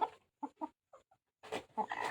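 Two backyard hens clucking softly nearby, short separate clucks followed by a louder burst of chattering calls.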